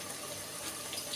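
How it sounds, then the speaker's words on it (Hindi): Water pours into a cooking pot of chicken and potatoes as a soft, steady splashing stream. It is quiet and close, with no talking. "ये थोड़ा सा पानी डाल रहा हूँ।"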